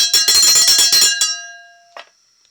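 A small handheld bell rings rapidly, about eight bright metallic strikes in quick succession, loud and close. A long ringing tail fades out after them, and one softer tap follows near the end.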